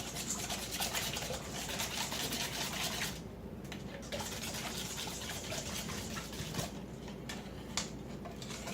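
A hand whisk beats instant hazelnut pudding cream in a bowl, giving a quiet, fast, continuous rhythmic scraping that pauses briefly twice before resuming.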